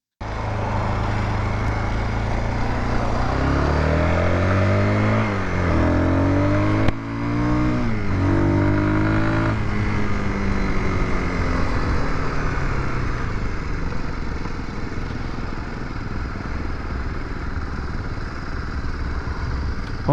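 A 2026 Beta ALP X motorcycle being ridden, its engine revving up through several gear changes with rising and falling pitch, then settling into a steady cruising drone with wind noise, close and loud.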